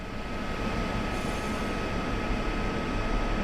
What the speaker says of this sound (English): You can hear the little compressor chugging its guts out.